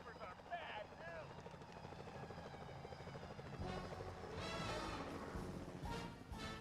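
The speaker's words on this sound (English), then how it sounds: "Careful, Sly. Those security choppers are bad news." Security helicopter flying in the video game Sly Cooper: Thieves in Time, a steady rotor thrum beneath game music and voices, growing louder and busier in the second half.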